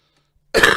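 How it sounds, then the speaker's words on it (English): A man gives a short, loud cough with some throat clearing, close and alone after near silence. "before I start coughing again"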